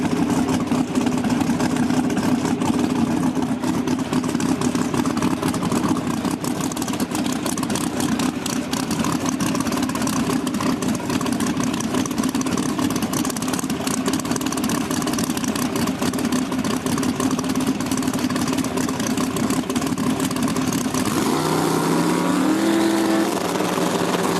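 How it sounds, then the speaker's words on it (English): Drag race cars give a loud, continuous engine drone that holds steady, then a rising rev sweeps upward near the end. "Oh, that's a drag race"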